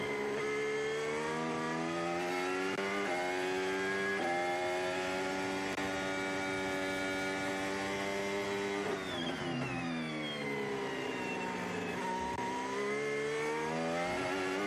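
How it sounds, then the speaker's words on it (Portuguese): Formula 1 Mercedes race car accelerating out of a corner at the Bahrain Grand Prix, a high whining engine rising through gear shifts and climbing again, steady and fairly distant. "Essa Mercedes tem uma saída de curva que é impressionante"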